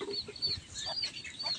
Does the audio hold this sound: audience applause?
no